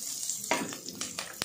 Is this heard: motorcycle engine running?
no